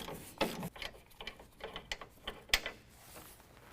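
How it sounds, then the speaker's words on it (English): A ratchet clicks in quick, uneven strokes while a 21mm nut is backed off a bumper bracket on a 2015 Ford F-150, close and moderately quiet, with a sharper metallic clank partway through. "there's going to be a 21mm nut that needs to be removed"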